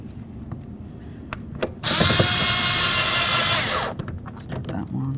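A power driver runs two long bolts into a truck door handle plate during a window regulator replacement on a 1992-2000 Chevy Tahoe, one loud continuous whir lasting about two seconds over a low background hum.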